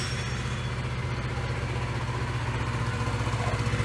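Small scooter engine idling steadily after a cylinder rebuild, a close, continuous low putter with a light mechanical clatter running evenly throughout.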